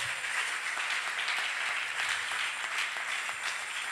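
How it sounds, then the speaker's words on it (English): A church congregation applauds during a worship service, a steady wash of many hands clapping at moderate distance that holds evenly from start to finish. "Can you clap for him, please?"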